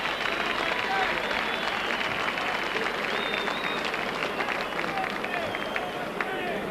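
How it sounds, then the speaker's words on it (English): A stadium crowd applauds and cheers a conversion at a Wigan v Bradford rugby league match, a continuous broad roar of clapping and hubbub with a commentator's voice faintly underneath. "And the crowd appreciate that."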